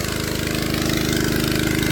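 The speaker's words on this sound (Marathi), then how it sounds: "आता परत सुरुवात केलेली आहे बघा कामाला मशीन चालू केली आहे" A motorized spraying machine runs in a grafted orchard, its small engine chugging in a fast, even pulse, close and steady throughout.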